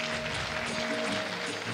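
Audience applause welcoming a speaker onto a stage at a spiritual gathering in Kanpur, a short burst of dense, steady clapping that fills the whole moment at close range.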